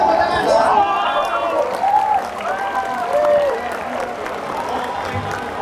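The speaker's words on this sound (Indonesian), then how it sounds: "Tepuk tangan, tepuk tangan." Audience applause at a cosplay talk show at a convention in Yogyakarta, steady clapping from a crowd with a host's voice and harmonic chatter carrying over it throughout.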